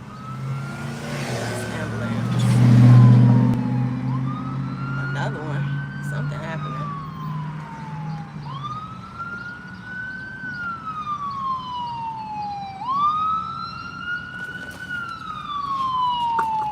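Loud wailing siren sweeping up and down in long repeated cycles as a vehicle passes nearby, with a rumbling engine and traffic underneath.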